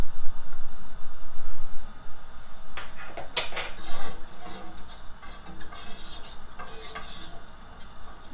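Milk being stirred in a pot with a wooden spoon over high flame while making homemade yogurt: close scraping and clinking against the pot, busier in the middle, over a low background hiss.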